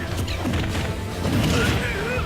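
A bomb bursts during a Super Smash Bros. Melee match with Fox, giving a short crunchy blast among busy game effects while a commentator talks over it.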